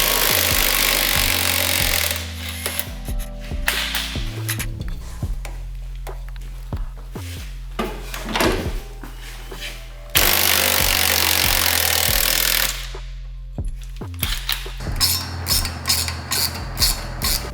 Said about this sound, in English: Now we gotta loosen the lower shocks.